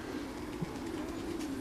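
Pigeons coo inside a breeding loft, low soft repeated calls close by over a steady background hum.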